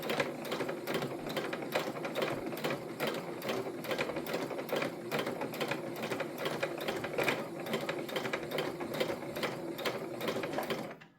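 A sewing machine stitches along the bottom of a fabric tote bag, a fast steady mechanical clatter of needle strokes running nonstop at close range and ending abruptly.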